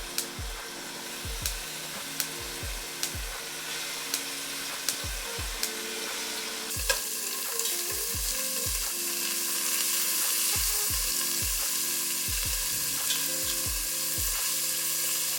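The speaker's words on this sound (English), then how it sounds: "So when you get a nice heat, put your steak in, and we want to create a fond." Beef steak for French onion soup sears in a hot pan, a loud steady sizzle that swells midway, punctuated by regular low knocks and clatters; no voice is heard.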